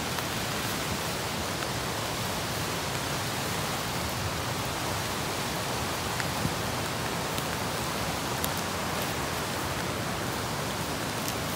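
Steady, even rain falling outdoors during a fishing trip in the rain for fish and frogs, a dense continuous hiss with no voices.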